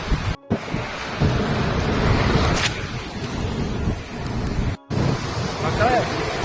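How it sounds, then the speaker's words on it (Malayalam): Rough sea surf pounding at Shanghumukham beach, a loud continuous crashing roar with heavy wind buffeting the microphone and two brief dropouts in the sound. "കടലിൻ്റെ കലി"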